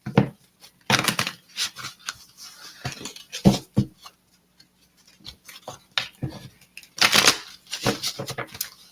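Tarot cards shuffled by hand in a series of quick, crisp riffling bursts with brief pauses between, close and fairly loud, with a little faint talk in places.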